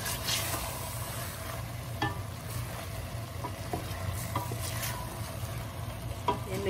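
Chicken simmering in yoghurt with tomato in a pan, stirred with a utensil: a quiet, steady bubbling sizzle with soft scraping strokes at irregular intervals, close up, with no talking.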